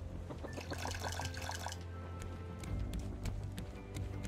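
Fresh water being poured in the survival video game Raft, a splashing liquid sound with scattered clicks over a steady low game background.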